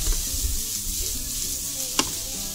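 Beef and vegetables stir-fry in a hot pan with a steady, dense sizzle, close and loud, broken by a single sharp utensil clatter near the end.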